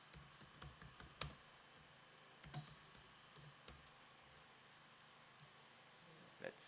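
Quiet typing on a computer keyboard while designing an energy drink flyer: sparse, irregular clicks and a few sharper taps over a faint background hiss, with no talking.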